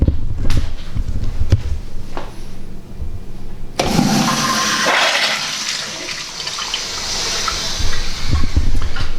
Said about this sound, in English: pouring it all in that big hopper and flushing it